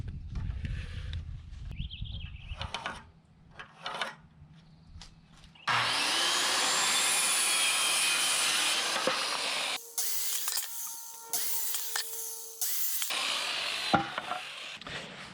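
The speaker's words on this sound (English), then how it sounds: "we gotta cut the 2x4s down" A power saw cuts 2x4 lumber boards outdoors. Scattered knocks and handling noises give way to a loud, sustained cutting whir for several seconds, then shorter bursts of sawing and clatter.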